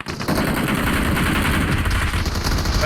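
Sustained automatic gunfire in the battle-royale game PUBG Mobile, loud and dense bursts of rapid shots running continuously with no pauses and no talk.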